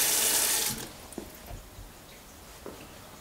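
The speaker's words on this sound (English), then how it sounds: "not leaving your tap running while washing your fruit and vegetables" A tap runs in a steady hiss for under a second, then shuts off, leaving a few soft drips and quiet clunks.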